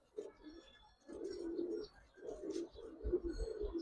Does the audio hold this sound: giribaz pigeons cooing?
yes